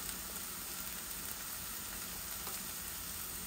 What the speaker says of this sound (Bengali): এখন মরিচ দিচ্ছি